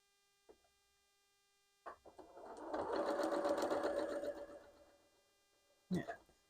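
A sewing machine chain-pieces log cabin quilt blocks, running in one sustained whirring burst of about two seconds, bracketed by a few soft clicks and handling knocks.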